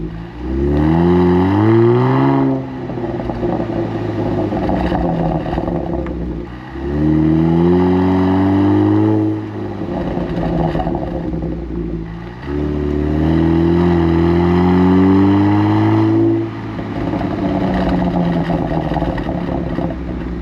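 Genesis G70 with a Borla exhaust in Sport Plus mode, revving loudly in three bursts with rising engine tones, then dropping off into crackling, popping burbles between the pulls.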